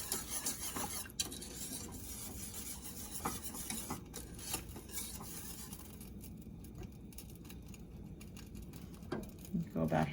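Spoon or whisk scraping and stirring a roux in a pan on the stove, a steady close rasp of repeated strokes with occasional clinks, continuing under light talk.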